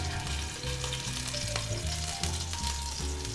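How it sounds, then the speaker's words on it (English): Meat fries in hot oil for Bolognese, an even, spattering sizzle heard close, blended with steady tonal music throughout the short stretch. "Careful with the oil, it jumps a lot."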